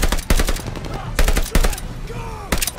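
Gunfire in Call of Duty: Vanguard, with several sharp bursts of rapid automatic shots separated by short pauses, close and loud over a busy battle background.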